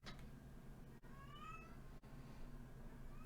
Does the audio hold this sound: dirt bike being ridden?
no